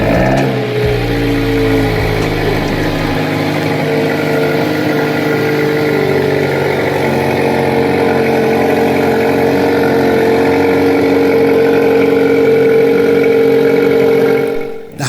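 Hyundai i30N car engine running steadily loud and close for the whole stretch, a throaty mid-pitched drone with sustained revving and slight swells, no voices over it, cutting off sharply at the end.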